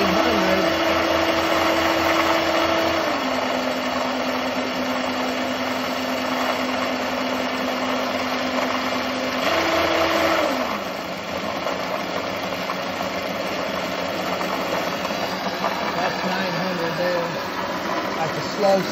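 A Rolux motor converted from gasoline to battery power runs steadily with an electric hum. Its pitch drops slightly partway through, then briefly rises and falls again, while faint talking can be heard underneath.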